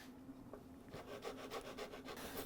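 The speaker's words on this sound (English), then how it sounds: "Now I'll just take a finer rasp" A finer rasp smoothing wood in a run of quick, even strokes, faint and close, the rhythm picking up after a slow start.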